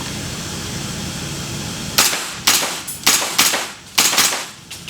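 An airsoft gas blowback M4 rifle fires in semi-auto, giving six sharp, loud cracks in an uneven rhythm after a couple of seconds of quiet room hiss, with no talking over the shots.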